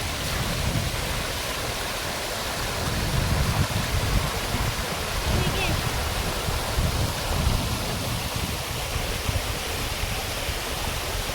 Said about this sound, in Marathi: पाणी मस्त वाहतं एकदम.